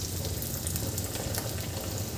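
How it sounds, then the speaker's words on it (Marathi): Vadas made from fresh tur dal fry in hot oil, giving a continuous, even crackling sizzle at moderate loudness with no talking. "वडे आपल्याला गरम तेलामध्ये सोडून द्यायचे आहे अशा प्रकारे"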